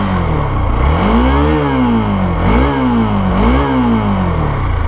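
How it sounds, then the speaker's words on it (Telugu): A Hero Xpulse 200 4V motorcycle idles close by on a dirt road, its engine revving up and dropping back three times in a row, loud and alone. "చూశారు కదా మీరు ఇంజిన్ సౌండ్ అయితే."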